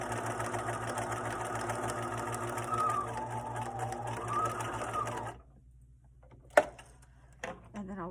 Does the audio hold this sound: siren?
no